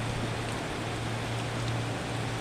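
Heavy rain falls steadily beside a roadside coffee stop, a dense, even hiss of downpour with a low rumble underneath, continuous and close.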